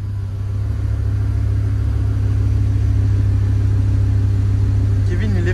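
Audi R8 cars being repositioned with engines idling, a steady loud low rumble throughout, with people talking over it.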